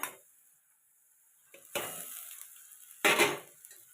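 Sliced bitter gourd (karela) dropped into a hot pan, giving two short bursts of sizzling with a clatter of pan and utensils between quiet gaps.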